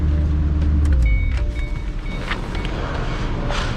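A manual Ford convertible rolls along with a steady, fairly loud hum of road and wind noise, and a few faint higher whines and clicks surface from inside the cabin.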